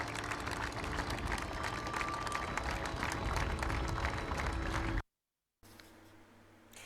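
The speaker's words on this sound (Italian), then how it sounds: "l'ultimo applauso al cavaliere" A large crowd lining both sides of a funeral procession route applauds in a dense, sustained wash of clapping for about five seconds, then cuts off, leaving a quieter ambient tail.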